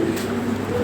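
A Lahori racing pigeon of European German bloodline gives one short, low coo, close and fairly soft against a quiet background.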